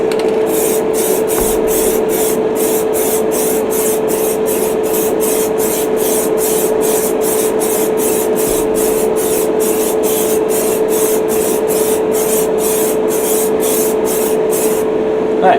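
Aerosol spray paint hisses steadily as a coat goes onto a Star Trek Voyager model kit, a close, continuous spray with a rapid regular pulsing and no talking.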